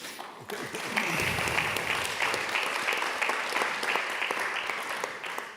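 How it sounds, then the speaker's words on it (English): An audience at a citizens' policy event on Europe breaks into sustained applause, dense steady clapping rising quickly and holding loud for several seconds. "And yes, that deserves an applause."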